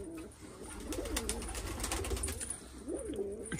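Domestic pigeons, tiplers on a tiled roof, coo softly and close by in repeated warbling phrases over a low background hum, with faint rustling and no talk.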